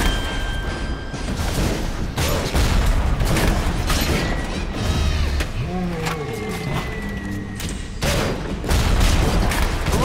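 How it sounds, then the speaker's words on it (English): Rocket launcher fire and explosions in the BioShock video game, a dense run of repeated loud booms and bursts over continuous game noise, with mechanical whirs and a voice occasionally underneath. "Rocket launcher, please."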